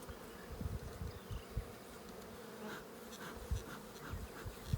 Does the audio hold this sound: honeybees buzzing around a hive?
yes